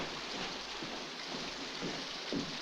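Steady rain falls outdoors as a soft, even hiss, with faint patters and a low distant rumble underneath.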